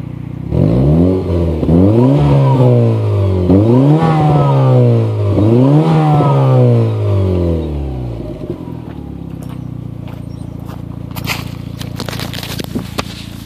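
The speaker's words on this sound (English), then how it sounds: "That's the exhaust sound." A Mazda 323 GTX engine roars close by, revving up and dropping through several gear shifts, then the exhaust crackles and pops as the engine eases off.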